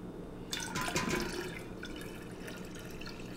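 Hot tea pours into two quarts of cold spring water, a faint splashing and trickling that starts after a moment of quiet and settles into soft liquid sounds.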